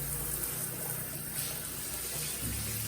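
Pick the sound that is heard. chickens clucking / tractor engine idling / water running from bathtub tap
water running from bathtub tap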